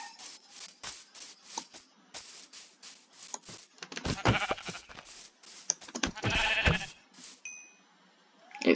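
Sheep bleat in Minecraft, a rapid run of short nasal bleats that comes in bursts, louder and more layered in the middle, then fades out.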